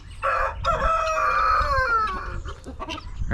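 A rooster crows on a farm as the chicken gate opens, one long, loud, near call with a falling tail, followed by faint clucking and movement, with guinea hens and geese nearby.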